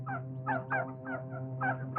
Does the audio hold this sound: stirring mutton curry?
no